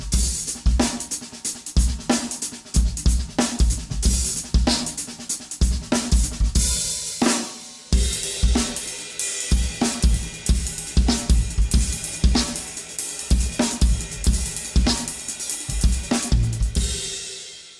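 A drum kit improvising with paradiddle and paradiddle-diddle stickings, Istanbul Mehmet cymbals ringing over busy snare and tom strokes driven by steady bass drum kicks, loud and close with no talking.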